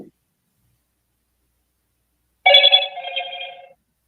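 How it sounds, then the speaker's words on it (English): A phone rings once with a short electronic ringtone, a bright, clear trill lasting about a second, loud and close in an otherwise silent room during a paranormal investigation. "Ominous ringtone."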